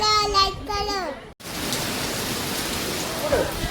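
Someone talks briefly, then after a short gap steady rain falls, a dense, even hiss close by.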